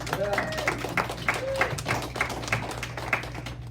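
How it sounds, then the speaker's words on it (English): A small audience at an entrepreneur talk claps for a team, scattered hands in an uneven rhythm at moderate level, with a steady hum underneath. "let's give my team a round of applause"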